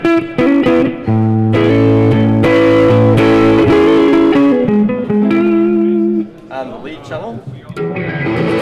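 An electric guitar plays sustained chords and single notes through the clean channel of a Peavey ValveKing amp, ringing clearly, followed by a few quieter picked phrases.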